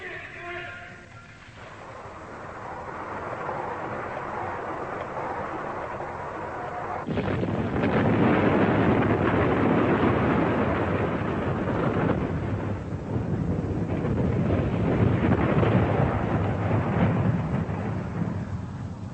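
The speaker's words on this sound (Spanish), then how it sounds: "en 1963, sin su ayuda, China hizo estallar su primera arma nuclear" Explosion of China's first nuclear weapon test, heard as a sustained, loud rumbling roar that swells abruptly and rolls on continuously, heavy and distant like thunder.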